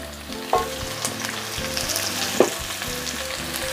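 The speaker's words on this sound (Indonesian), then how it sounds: "saya masukkan bawang merah yang juga sudah diiris tipis" Thinly sliced shallots sauté with garlic in hot oil, a steady sizzle with a couple of sharp stirring scrapes and a low background hum, close by with no talking.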